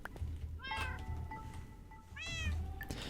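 A cat in Minecraft gives two short, quiet meows, one early and one near the end, over a faint background hum.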